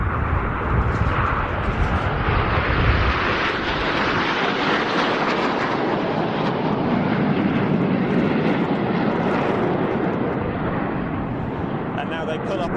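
Frecce Tricolori jets flying a formation display at the Royal International Air Tattoo 2022, a loud, sustained broadband roar that swells and eases, with a voice talking over it.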